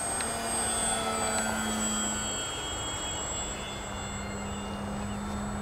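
E-flite M7 Maule radio-controlled model airplane flying in winter, a steady high electric motor whine with a faint low drone holding constant throughout, no voices.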